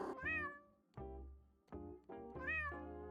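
A cat in the video game JudgeSim meows four times in close succession, with rising and falling calls that are clear and near, the first and last longer and more drawn out, with no talk over them.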